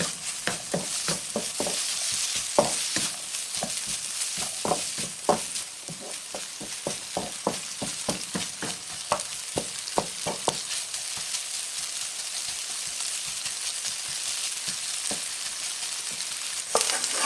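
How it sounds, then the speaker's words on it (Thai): Small diced potatoes stir-fried in a pan for fried rice, a constant close sizzle broken by frequent rhythmic scraping and tossing strokes of the spatula, with no talking. "เราก็จะใส่มันฝรั่งลงไปผัดค่ะ"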